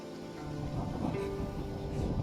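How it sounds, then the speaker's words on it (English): A thunderstorm rolls in within the video game Assassin's Creed Odyssey, with a deep, sustained rumble of thunder and rain swelling steadily under faint tonal music. "Storm's coming in."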